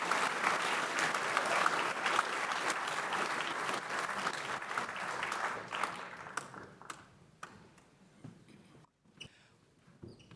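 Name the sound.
audience applause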